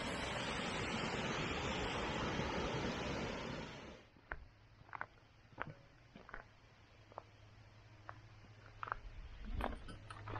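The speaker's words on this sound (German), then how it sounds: "Kleiner Wasserfall." A small waterfall on a mountain hike, a broad steady rush of falling water for about four seconds before it cuts away to quiet outdoor ambience with scattered soft taps and clicks.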